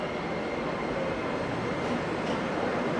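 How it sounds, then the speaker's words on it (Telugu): Metro train at a subway station in Beijing, a steady, loud rumble of rolling carriages and wheels on track lasting throughout without a break, with no voices rising above it. "చూడండి ఎలాగుందో మెట్రో స్టేషన్"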